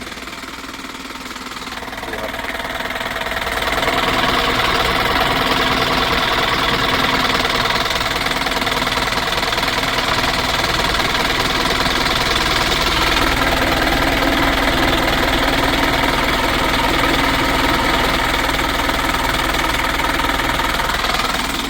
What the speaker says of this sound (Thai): อาจารย์ทอนดึงเครื่องดูฝั่งนั้นครับ โอ้ เสียงเครื่อง